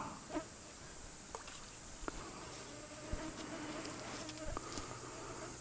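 Flies buzz in a steady, close drone around a fishing spot at Soyang Lake on a hot summer day, with faint taps and rustles now and then and no voices.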